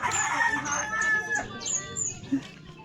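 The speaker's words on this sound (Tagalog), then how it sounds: "Ay, manok ah." A rooster crows loudly nearby, with clucking hens mixed in and a voice briefly in the background.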